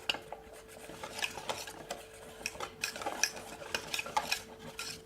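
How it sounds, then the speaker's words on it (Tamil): Chicken 65 masala being stirred and mixed by hand with a little food colour in a bowl, giving soft wet squelches and scattered clinks of utensil against the dish, close and fairly quiet, with no talking. "மசாலா எல்லாம் சேர்த்து மிக்ஸ் பண்ணிட்டேன்."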